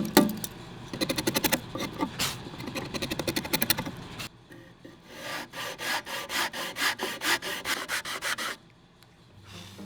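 Sanding block rubbed back and forth over a wooden joint in quick, rhythmic strokes, a raspy scratching that pauses briefly and then resumes in a fast, even series.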